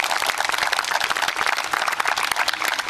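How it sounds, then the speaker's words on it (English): An outdoor crowd at a Washington Avenue park re-dedication in Seaford claps continuously in a dense, even round of applause, close and fairly loud, with no voices over it. "Let's give them a round of applause."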